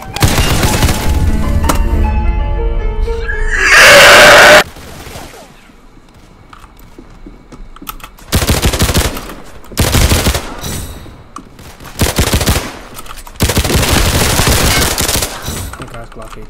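Automatic AK rifle bursts and Deagle pistol shots in the Roblox-style game Criminality, loud rapid machine-gun volleys with separate bursts spread across the clip, one sustained blast near the start over game sound and a voice.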